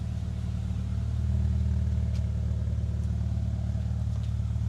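Low, steady exhaust drone of an idling Honda Accord CB7 fitted with a cheap aftermarket resonator, a dense rumble with a faint raspy edge that holds level throughout, no voices.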